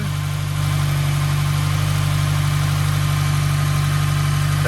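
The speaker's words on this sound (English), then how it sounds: "Let's fire it up and see what it sounds like. Okay, we got it running." A Subaru WRX with a Grimspeed V2 bypass valve idles steadily nearby, a low, even engine rumble with a constant hum and no revving, and no voices.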